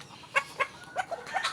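Brooding hen on a backyard farm clucking in a string of short, close calls, fairly quiet, with irregular gaps between the clucks and no talk.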